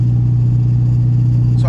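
A C6 Corvette with a header-only exhaust drives along, its deep engine drone steady and loud throughout, with a brief higher rise at the very end.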